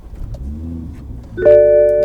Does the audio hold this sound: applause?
no